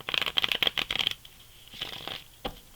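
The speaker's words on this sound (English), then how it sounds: "One more shuffle, guys." Quick, crisp rippling bursts of tarot cards being shuffled, a long riffle followed by two shorter ones, close and fairly quiet with no talking.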